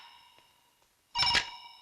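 A telephone rings in a police station with a steady electronic tone that continues throughout and swells into a louder burst near the end, close and with no one talking.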